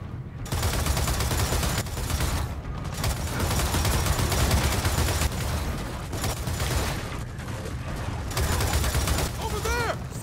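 A mounted heavy gun in Gears of War 4 fires continuously, a dense pounding barrage that runs almost unbroken, with battle noise and brief pauses between bursts.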